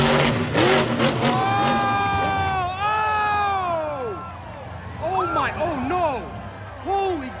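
A monster truck roars at a monster truck tour show at the Kitsap Fairgrounds, its engine revving up and down in loud, rising and falling sweeps over a steady crowd din.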